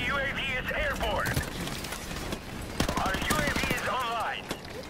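Rapid bursts of gunshots in a Call of Duty: Modern Warfare Remastered online match, mixed under a player's excited talking and game voice cues, with a tight stutter of automatic fire near the middle.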